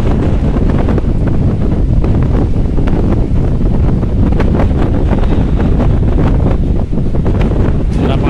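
Strong wind roars and buffets the microphone continuously, loud and broadband, with a faint wash of water underneath, at the Bakauheni ferry port.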